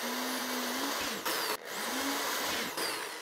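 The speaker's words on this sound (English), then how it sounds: "I'm gonna drill 2¼-inch holes for the air tubing" A loud, high-pitched whirring power drill cuts 2¼-inch holes in bursts, pausing and restarting a few times with short dips in between.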